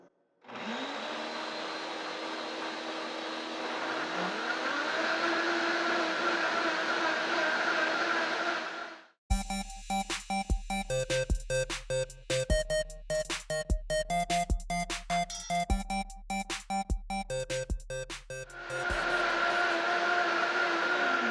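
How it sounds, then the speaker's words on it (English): Two high-speed blenders, a Ninja Intelli-Sense and a Vitamix Ascent, run one after another: a steady loud motor roar for about nine seconds, then a choppy, pulsing blend with hard rhythmic thumps, before settling back into a smooth high whine. "On the Vitamix, I'm going to go and touch the start button and ramp it up to the highest speed."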